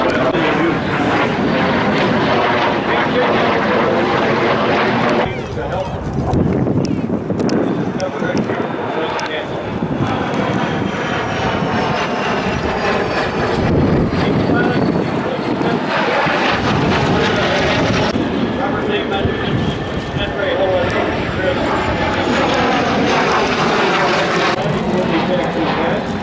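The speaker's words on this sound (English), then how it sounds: "The L-39 is a very popular airplane in the West." An L-39 jet flying at the Oshkosh AirVenture airshow, a loud, roaring engine rush that swells and fades in long passes, with wind buffeting the microphone and a voice talking over it.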